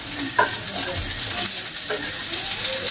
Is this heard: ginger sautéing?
yes